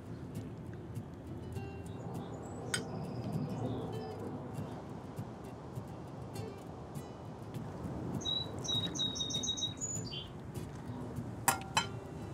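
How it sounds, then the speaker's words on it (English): Small bird chirping and singing in a garden among flowers, a few short bright calls rising above steady outdoor background noise, fairly distant and faint. "You hear my little bird?"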